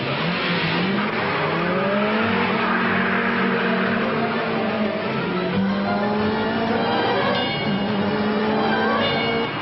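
A Mercedes 190E 2.5-16 and a BMW M3 Evolution race at the Montlhéry circuit, with engines revving hard and pitch rising and falling through the gears, a continuous loud roar heard close by without speech.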